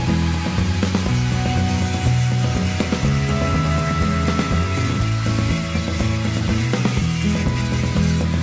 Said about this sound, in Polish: Przy wycinaniu ścian bocznych pomagałem sobie pilarką tarczową.